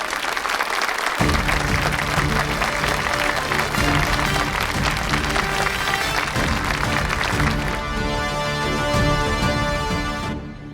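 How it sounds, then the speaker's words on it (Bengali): Applause at a village festival competition for farming couples: a dense, sustained crowd clapping that fills the whole stretch over loud festive background music. "হাততালি।"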